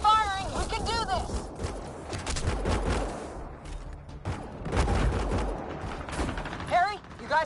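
Rapid bursts of video game gunfire mixed with explosions and mechanical clatter, loud and sustained under excited shouted voices.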